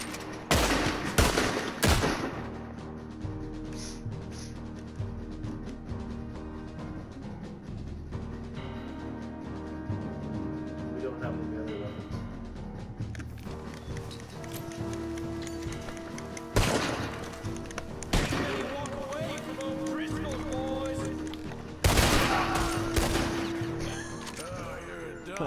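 Gunfire in Red Dead Redemption 2, with sharp shots and bursts scattered across a long stretch of game action, some louder near shots standing out over a steady background of music and effects.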